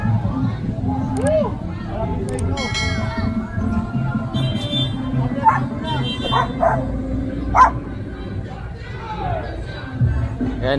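Several dogs bark and yip in bursts amid a noisy street clearing operation, with a crowd and overlapping talk throughout, one bark standing out louder near the middle.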